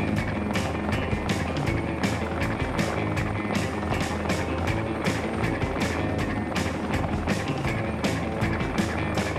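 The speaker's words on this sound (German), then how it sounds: "vermutlich erwarte ich auch einfach zu viel von so einem Helikopter" Helicopter in the video game Heliborne roaring continuously, its rotor chop giving a fast rhythmic pulse over a thick engine rumble, loud and unbroken without talk.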